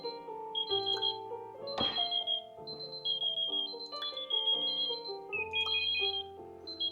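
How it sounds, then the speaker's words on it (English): Giant alarm clocks in the puzzle game Superliminal ring together, bright overlapping electronic chimes and melodic beeping in repeating bursts that keep going without pause. "we're going to make some giant alarm clocks. And we're going to keep spawning them"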